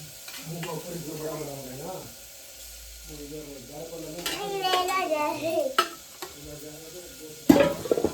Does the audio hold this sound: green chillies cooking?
yes